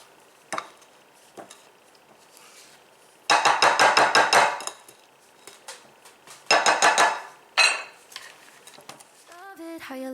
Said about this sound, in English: I'm going to scrape down my bowl because I want everything to be fully incorporated equally.